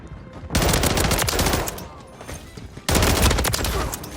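Rapid BP50 SMG bursts crack out in Modern Warfare 3, two dense loud volleys of automatic fire separated by a short lull.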